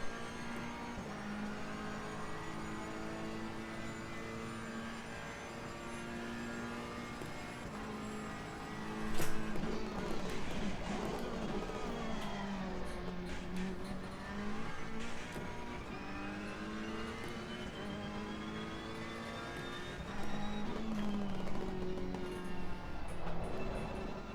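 A Ferrari Evo race car in Assetto Corsa Competizione roars continuously as its engine revs rise and fall through gear shifts, with a brief louder surge partway through; no one speaks.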